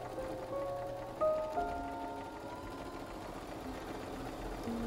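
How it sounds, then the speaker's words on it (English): A sewing machine stitching a pillowcase, producing a steady, quiet mechanical whir with faint rhythmic ticking throughout and a couple of brief louder clicks, no talking. "You can use your sewing machine."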